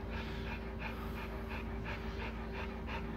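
A dog pants in quick rhythmic breaths, close and steady, over a constant low hum.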